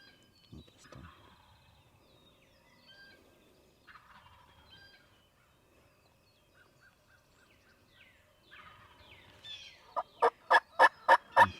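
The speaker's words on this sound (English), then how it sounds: "they're both gobbling in sequence" Wild turkeys in the Missouri Ozarks during a hunt, with faint scattered bird calls giving way near the end to a loud, rapid gobbling run of about six pulses, while no one speaks.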